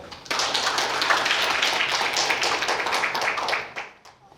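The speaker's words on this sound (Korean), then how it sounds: "박수로 모시겠습니다" An audience at an academic colloquium claps to welcome a guest speaker, a full burst of many hands that begins sharply, holds steady for a few seconds, then thins and fades out.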